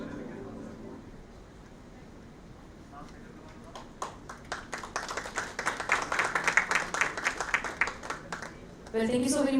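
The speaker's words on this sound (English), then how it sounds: "thank you so very much, everyone, for the round of applause" An audience applauds at a medical laser product launch, a scattered, building burst of claps that grows louder and denser, heard in a hall and followed by a voice at the end.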